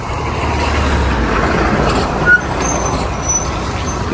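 Heavy truck rumbling along a forest road near Peth waterfalls, a loud, steady engine drone close by with a brief hiss like an air brake midway, no voices.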